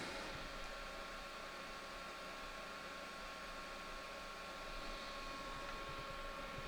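A hot air rework station blows steadily during microsoldering on a Nintendo Switch SD card connector, a constant, fairly faint airy hiss heard close up with no talk.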